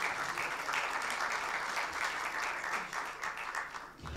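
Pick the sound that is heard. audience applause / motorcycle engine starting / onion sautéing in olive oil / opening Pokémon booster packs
audience applause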